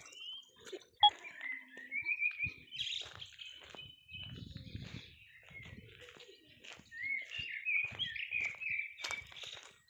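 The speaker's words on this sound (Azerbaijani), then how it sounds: "Quşların səsinə baxın." Several birds chirping and trilling outdoors in a village yard, bright repeated calls scattered over quiet background with occasional soft rustling and footsteps.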